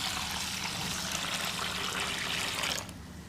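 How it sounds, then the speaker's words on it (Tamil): Water steadily pours and trickles as raw ration-shop rice and fenugreek seeds are rinsed and drained, a continuous close splashing that cuts off abruptly near the end, with no voices. "நல்லா அலசிட்டு தண்ணியை வடித்து வச்சுருக்கேன்"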